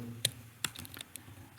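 A password typed on a computer keyboard: a handful of sharp, close key clicks at irregular intervals in a quiet room.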